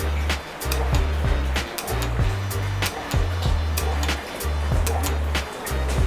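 A household water pump with the tap half open cycles on and off. It repeats a low humming motor drone that starts and stops in short bursts, with clicks and rushing water noise over it.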